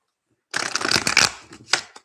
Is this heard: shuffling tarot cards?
yes